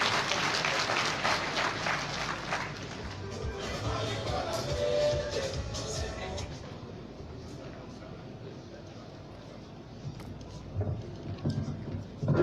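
Audience at the PDCI-RDA party congress applauding, a dense stretch of clapping from a large hall, with a few voices and crowd noise mixed in, gradually thinning toward the end.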